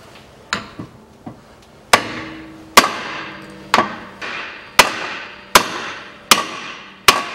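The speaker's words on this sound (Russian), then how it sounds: "Ну и теперь также выбиваю передний сайлентблок." A hammer knocks out the front silent block bushing from the rear suspension of a Toyota Harrier. Loud metallic blows ring out at a steady, roughly one-per-second rhythm, each decaying with a short ring, close by and without speech.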